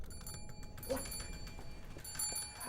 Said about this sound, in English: here comes the doorbell for your first guest